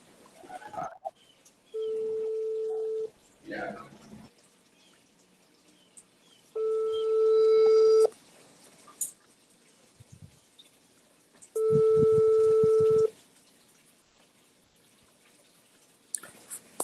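Telephone call tones sound during a public thesis defence as a call is placed: three long, steady electronic beeps, evenly spaced and fairly loud, with faint voices and room noise in the gaps.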